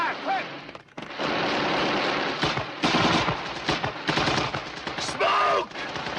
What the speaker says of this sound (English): Cover fire, quick!